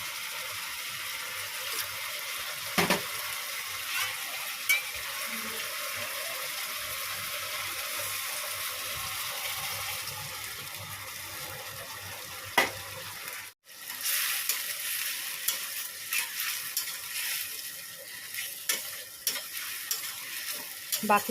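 Ginger-garlic masala fries in a pan with a steady, close sizzle while a spatula stirs and scrapes through it. The sound runs continuously, with one brief dip partway through, and no one speaks.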